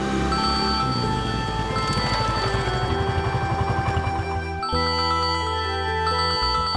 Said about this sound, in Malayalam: നിന്റെ ഫോൺ റിങ് ചെയ്യുന്നുണ്ട്